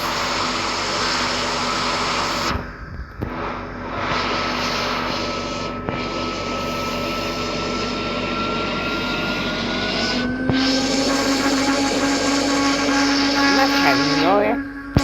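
A steady airplane engine drone in the Roblox flight simulator game after landing, loud and continuous, shifting in pitch partway through, with voices talking over it.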